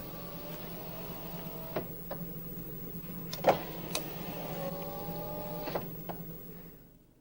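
Electric power windows of a 1993 Renault Laguna whine steadily as they close, a low motor hum with faint clicks and squeaks, quiet and close, fading out at the end.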